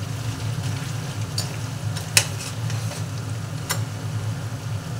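Fish fries in a pan with a steady, even sizzle and a low background hum, plus occasional sharp clinks of a utensil against the pan. It sounds close and constant, with no voices.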